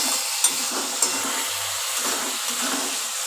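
Spice paste with a little water fries in a pan for a Bengali rohu fish curry, a soft, steady sizzle broken by faint scraping stirs and a couple of light taps, with no talking.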